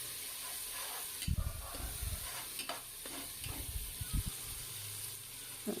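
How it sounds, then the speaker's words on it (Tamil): Three large tomatoes sautéing over raised heat in a pot for a simple biryani, a steady close sizzle broken by scraping stirs of a spoon against the pot, with no talk. "அதுவும் நல்லா வதங்கி வரணும்."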